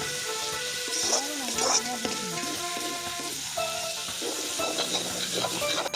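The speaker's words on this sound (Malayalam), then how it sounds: "അപ്പോൾ തന്നെ ചീനച്ചട്ടി നമ്മൾ ഇളക്കി അത് വഴറ്റിക്കൊണ്ടിരിക്കുകയാണ്." Onions, shallots, green chillies and tomatoes are sautéed in a wok for a Kuttanad-style duck egg roast, producing a steady close sizzle with occasional stirring scrapes while a voice talks over it.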